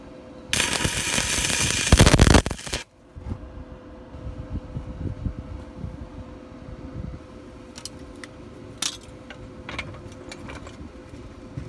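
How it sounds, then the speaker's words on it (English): Welding a nut onto a bolt for DIY rock sliders on a Honda Pilot: a loud, crackling burst of about two seconds, followed by quieter hum and scattered ticks and clicks. "All right, it's welded on."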